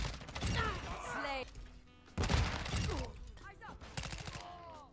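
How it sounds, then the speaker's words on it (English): Flash grenades and gunfire burst in a Call of Duty match, loud sharp blasts and rattling shots arriving in clusters with chirpy game effects between them, busy and close. "Relax with the fucking flash grenades, dude."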